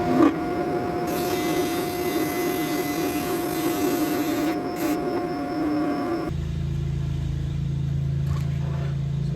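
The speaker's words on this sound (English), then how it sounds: "So I just need to disc sand the excess off of this Wenge and get this flat." A disc sander grinding the excess off a piece of Wenge wood to flatten its edge, a steady loud whir with rubbing grit for about six seconds, then cutting off to a low motor hum.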